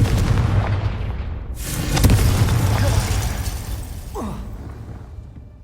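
Confringo spell explosion in Hogwarts Legacy: a loud booming blast with a crackling burst around two seconds in, followed by rumbling debris and a fading tail, with a brief voice grunt near the end.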